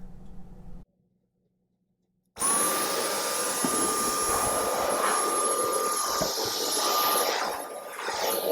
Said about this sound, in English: let's go ahead and vacuum this out real quick